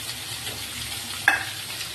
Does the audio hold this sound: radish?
yes